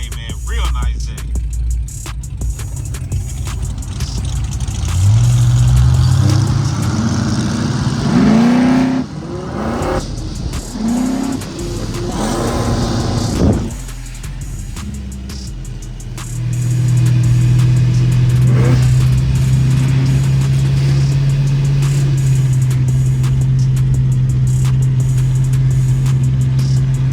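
Race car engines out on a city street on a Sunday, loud and close, idling with a rough rumble and then revving hard in repeated bursts, settling into a long sustained high-rpm drone.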